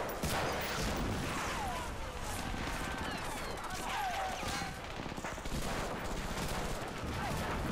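Rapid gunfire crackles continuously in the WWII shooter Medal of Honor Frontline, set during the Normandy landing, dense bursts layered over battle noise and a voice talking throughout.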